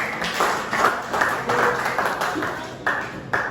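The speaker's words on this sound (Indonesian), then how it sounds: "Tepuk tangan dulu buat Gina." Classroom applause for a student at a high school lesson, a small group clapping in uneven bursts with several sharp swells, fairly close and moderate in level.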